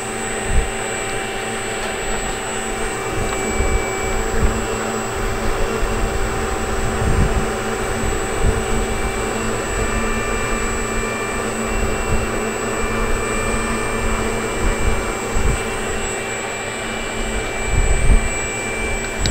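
A G&C 4250 540kv brushless electric motor runs on a test bench from a 4S battery through an FMS 65 amp ESC at roughly 850 watts. It gives a loud, steady whirring roar with a constant high whine that holds without a break.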